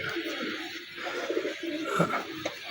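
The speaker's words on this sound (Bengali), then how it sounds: "এক পেয়ার টেডি কবুতর" Teddy pigeons coo softly in low, throaty murmurs close by, over a faint hissy background.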